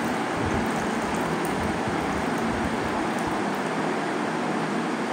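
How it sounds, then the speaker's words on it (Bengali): Hot water poured steadily into a colour-changing magic cup, a continuous close, loud splashing rush with no break and no talk. "গরম জল দেওয়া হচ্ছে"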